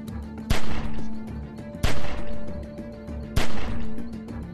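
Gunfire in The Walking Dead 400 Days video game: three loud, sharp shots spaced about 1.5 seconds apart, each with a reverberant tail, over a steady low hum and no talk.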